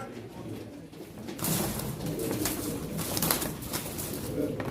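Pigeons coo at a pigeon auction, soft repeated coos and rustles heard close amid a busy indoor crowd murmur, with faint voices underneath.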